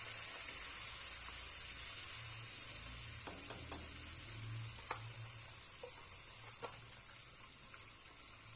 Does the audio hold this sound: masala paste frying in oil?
yes